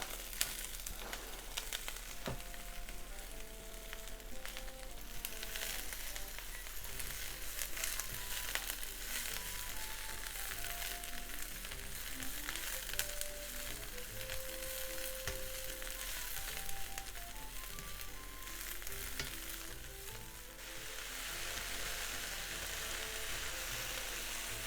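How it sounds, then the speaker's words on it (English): Cabbage fries in vegetable oil in a frying pan with a steady, moderate sizzle and crackle, occasional stirring noises and soft background music running underneath. "And let's cook the cabbage until it's wilted."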